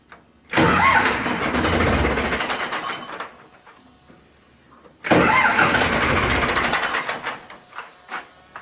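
A heavy Ursus C-360 4x4 tractor engine cranks and roars to life twice, each start running loud for a few seconds before dying back down.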